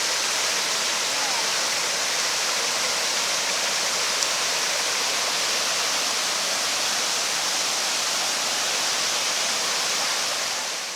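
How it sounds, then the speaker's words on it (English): Palapasan Falls in Negros Oriental, Philippines, roars as a loud, unbroken wall of rushing water that stays steady and close throughout, with no pauses or changes. "this has to be the best waterfall that I've ever seen in the Philippines"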